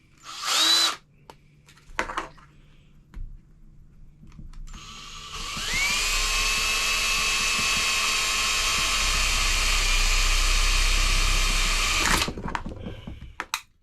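A power drill bores through a side wall in a long, loud, close whirring run of about six seconds, with shorter bursts and handling clatter before it and a few small knocks after.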